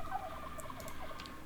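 Turkeys gobbling in the Project Zomboid video game, a few short, quiet gobbles over a steady low background hum, with no talking.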